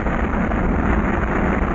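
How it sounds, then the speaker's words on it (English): Apollo 11 Saturn rocket at liftoff, a dense, steady broadband roar with wind-like rushing texture, loud and unbroken throughout. "Liftoff on Apollo 11."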